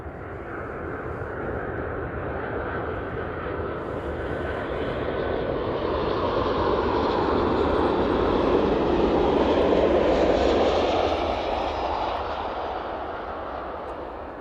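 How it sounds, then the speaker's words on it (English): Ryanair airliner in from Dublin landing at East Midlands, a broad roaring engine rumble that swells to a peak and then slowly fades as the plane passes close by. "the Ryanair service in from Dublin this afternoon."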